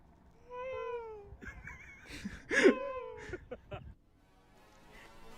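A cat meows several times in a short, fairly close and clear series, with a brief burst of human laughter or a voice mixed in partway through.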